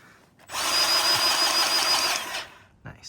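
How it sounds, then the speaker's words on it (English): A Makita cordless auto greaser whirs loudly for about two seconds while pumping grease into an ATV disc implement, starting and stopping abruptly, close up outdoors. "Makita auto greaser is pretty slick"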